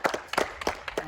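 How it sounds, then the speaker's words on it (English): A small group of people clapping for friends, a few uneven claps in quick loose rhythm, close and brief. "Let's clap for Vay's friends."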